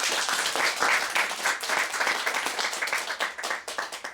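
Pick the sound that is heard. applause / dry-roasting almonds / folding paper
applause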